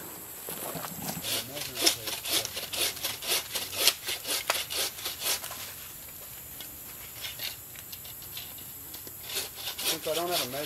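In the woods a man hand-saws live trees, a steady rhythmic rasp of the blade biting wood in back-and-forth strokes at some distance, with fainter scraping and a brief rustle near the end.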